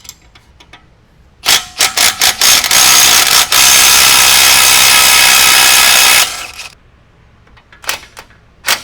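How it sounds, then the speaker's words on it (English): A power tool on an 18 mm bolt of the steering stabilizer on a Jeep Gladiator JT, a loud close whirring burst of about five seconds framed by short clanks and ratchet bursts. "I'm going to go ahead and take the stabilizer off, get that out of the way."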